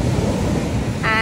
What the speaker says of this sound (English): Like the waves pull you down underwater.